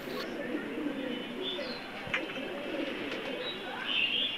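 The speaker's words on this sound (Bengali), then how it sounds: "বিকেল বেলা, সেজন্য কবুতরগুলোকে খাইয়ে দিচ্ছে" Pigeons being fed in the afternoon, low soft cooing close by over a quiet outdoor background, with a few faint chirps.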